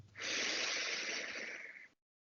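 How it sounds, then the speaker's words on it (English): A single long, steady inhale through the nose, close and breathy, lasting nearly two seconds before stopping into silence. "Breathing in"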